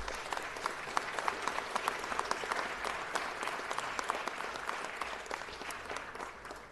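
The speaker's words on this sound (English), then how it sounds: "give a rousing round of applause to the Baldwin Hills organization" At a city council meeting, the audience breaks into a full round of applause, dense overlapping clapping heard from some distance at moderate volume for several seconds.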